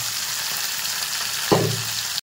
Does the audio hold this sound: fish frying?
yes